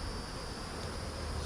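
Honey bees hum in a steady, faint drone around a hive, a continuous buzzing with no voices.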